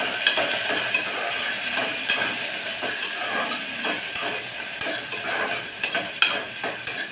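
Potato curry with green chillies being stirred in a frying pan, a continuous sizzle punctuated by regular sharp scrapes and knocks of the spoon, close and loud, with no talking.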